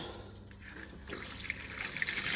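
Water runs at full flow through teed-together household plumbing pipes, a steady, fairly faint rushing and trickling that swells slightly toward the end.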